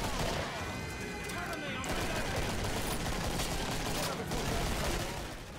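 Gunfire from dual handguns in Killing Floor, a dense, continuous clatter of shots amid chaotic game noise, fairly loud throughout with a voice faintly mixed in.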